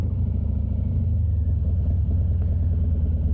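A 2019 Harley-Davidson Fat Bob FXFB motorcycle idles close by, a loud, deep, steady engine rumble with a rapid pulsing beat and no voices.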